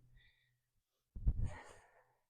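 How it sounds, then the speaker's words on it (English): A soft breath, a pause, then a single heavy, forceful exhale during an exercise workout, close and alone with no talking. "You're going to hear my heavy breathing."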